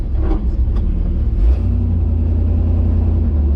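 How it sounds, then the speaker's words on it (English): Ramp truck doing donuts in the dirt, a loud low engine rumble with a surge at about one and a half seconds, then a steady heavy drone. "But I bet it does donuts in the dirt."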